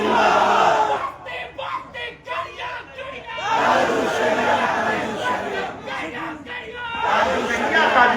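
A religious gathering crowd answers a Takbir call with loud, massed shouted responses in bursts, separated by a brief lull, the voices close and overlapping.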